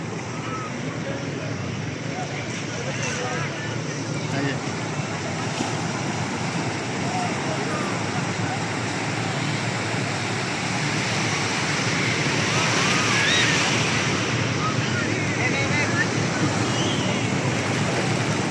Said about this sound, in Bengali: এই যে কত বড় বড় ঢেউ আইতেছে